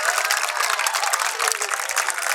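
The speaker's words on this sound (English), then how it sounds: "Clap for yourself." High school students clap together at an outdoor tree-planting gathering in Ibadan. The applause is dense and continuous, with a thin, bright tone lacking low end, and it sounds at moderate loudness with no talk over it.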